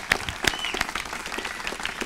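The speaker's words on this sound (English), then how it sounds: "So let us give them a big applause right now." Brief applause from an audience at the 2014 Greenhouse Scholars Inspire event, honoring the scholars: a steady wash of clapping with some louder individual claps standing out near the front.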